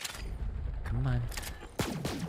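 Gunfire from Borderlands 3 rattles in quick repeated shots that are loud and close, with a sharp burst near the end and a voice talking over the shooting.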